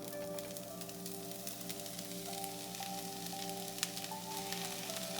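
Chopped leeks sauté in about two tablespoons of olive oil, a soft, steady sizzle with faint scattered crackles and a low tonal hum in the background, quiet and unbroken by speech.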